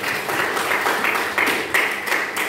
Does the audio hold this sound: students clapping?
yes